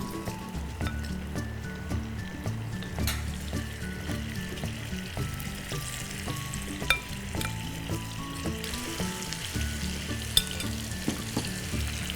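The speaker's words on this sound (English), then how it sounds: "a little bit of oil, and then we're going to cook our marinated fish" Marinated fish pieces frying in a little oil in a pan for methi macchi: a continuous, close sizzle and crackle with occasional stirring scrapes and clinks, no voices.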